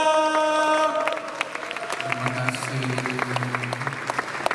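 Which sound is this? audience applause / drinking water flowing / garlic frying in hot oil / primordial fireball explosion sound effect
audience applause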